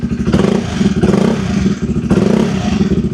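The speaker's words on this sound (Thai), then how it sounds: "ส่วนเสียงท่อตอนเดินเบา เสียงเครื่องเนี่ย ผมต้องยอมรับเลยนะ ว่าค่อนข้างที่จะเงียบนะครับ" A stock-exhaust 2014 Honda CBR150 motorcycle engine runs close by, a loud throbbing idle with a quick uneven pulse and faint mechanical clatter.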